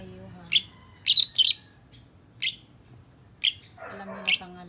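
Pet lovebirds in their cage give six short, sharp chirps and squawks, spaced irregularly and close by, over a quiet room with faint low background sound.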